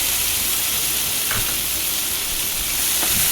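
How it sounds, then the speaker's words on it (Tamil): Onions sautéing in a pan for a Tamil taro root (seppankizhangu) kuzhambu, a steady broadband sizzle with a couple of faint stirring scrapes, close and continuous with no talking. "வெங்காயத்தை நல்லா வதக்கிட்டு"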